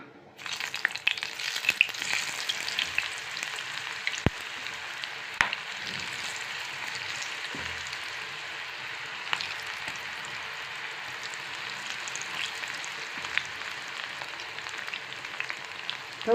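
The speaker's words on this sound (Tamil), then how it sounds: "இப்போ நம்ம பொரிச்சு எடுத்துக்கலாம்" Marinated chilli mushroom pieces deep-fry in hot oil in a Tirunelveli-style kitchen, a steady close sizzle with crackling pops and occasional sharp taps, continuous throughout.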